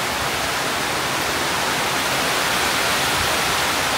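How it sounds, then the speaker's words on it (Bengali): Heavy downpour pours down in a steady, dense hiss of rain with no break, loud and close, with wind in the air during a storm near a beach. "মুষলধারে বৃষ্টি হচ্ছে"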